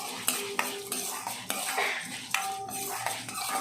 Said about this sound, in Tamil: வர கொத்தமல்லி போட்டு நல்லா வறுத்துக்கலாம்.